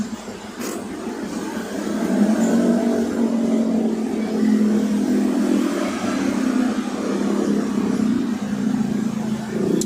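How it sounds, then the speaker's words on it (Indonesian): Motorcycles passing along a street make a continuous engine drone that swells and eases as the bikes go by, steady and fairly close with no voices. "Banyak motor lalu lalang"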